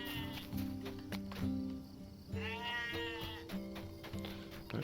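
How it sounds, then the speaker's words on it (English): Sheep in the Lord of the Rings Online video game bleat repeatedly, with several wavering, nasal calls rising and falling over steady in-game ambience. "So here's a sheep."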